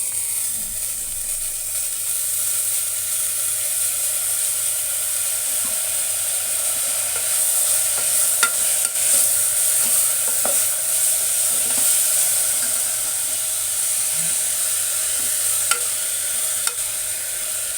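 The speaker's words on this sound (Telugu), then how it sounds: "వేగుతుంటే మంచి స్మెల్ వస్తుంది ఇందులోనే బచ్చల కూర వేసుకుందాము" Malabar spinach sizzles steadily in a hot pan, a constant bright frying hiss with occasional clicks and scrapes of stirring, close and alone.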